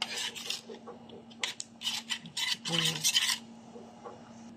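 Spareribs are tossed with chili powder in a metal bowl or pan, giving a run of scraping, rasping stirring strokes in uneven bursts over a steady low hum, with no talk.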